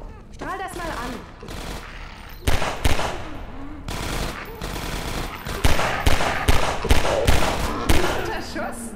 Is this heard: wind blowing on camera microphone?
no